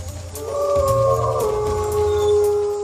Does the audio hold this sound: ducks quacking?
no